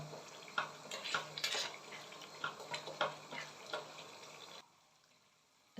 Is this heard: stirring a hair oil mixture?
yes